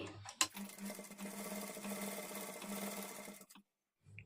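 A sewing machine runs a single steady burst of stitching along the edge of a blouse lining for about three seconds, preceded by a short click and ending abruptly.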